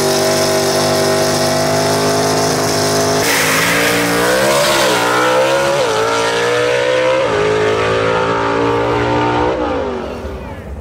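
A 1955 Chevy gasser at a London Dragway drag race, its engine roaring loud and close under hard acceleration with rising, stepping pitch through gear changes before fading slightly at the end.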